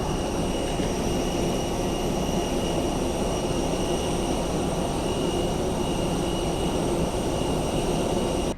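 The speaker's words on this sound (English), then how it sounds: "Finally made it to today's Airbus A321neo!" Inside the cabin of a Gulf Air Airbus A321neo, the engines and airflow make a loud, steady broadband roar with a faint high whine on top, continuous and unchanging throughout.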